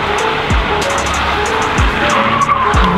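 A front-wheel-drive car spinning donuts, its tires squealing and skidding loudly over a revving engine, with repeated swells as the car circles close by.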